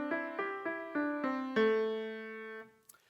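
Pentatonic scale played as five or six separate tonal notes stepping upward at an even pace, each struck and then decaying, with the last note ringing longer before a brief soft knock at the end.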